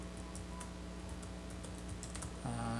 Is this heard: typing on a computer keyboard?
yes